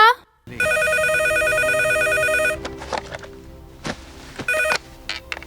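A telephone rings with a sustained electronic trill lasting about two seconds, then cuts off; brief bits of movement and voices follow in a domestic setting, and a short second burst of ringing comes near the end.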